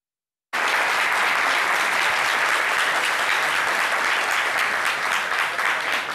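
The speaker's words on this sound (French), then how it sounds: "On va vous accompagner avec des applaudissements." Dense, steady applause from a studio audience at a French radio-television broadcast, sustained and loud for about six seconds after a brief silent start, with no talking over it.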